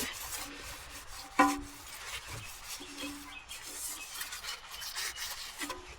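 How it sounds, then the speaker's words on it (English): A rag rubs and wipes away excess oil around a freshly fitted oil filter on a Vauxhall Movano van, a soft, continuous scrubbing with one brief knock near the start, close and fairly quiet. "wipe any excess away because we'll be checking for leaks"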